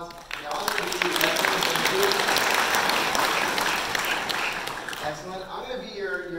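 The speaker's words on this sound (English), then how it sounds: "Give them all a round of applause." Round of applause for volunteers rising quickly into full steady clapping from a room of people, tapering off as a voice begins speaking near the end.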